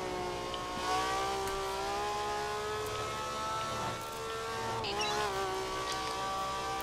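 Engine of a car driven in the racing video game The Crew, a steady harmonic drone that rises and falls in pitch with revving and shifting, continuous and fairly loud throughout with no talk.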